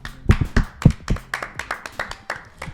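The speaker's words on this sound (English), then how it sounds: "Let's all give him a round of applause, a team round of applause." A small team claps for a new member on a podcast set, a handful of close, distinct hand claps in an irregular patter, loud at first and thinning out toward the end.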